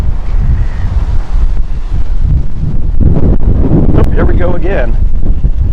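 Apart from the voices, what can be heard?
wind whipping up dust in a storm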